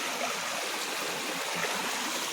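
A steady rush of flowing stream water at the source of a waterfall, continuous and even throughout, with no other sounds standing out.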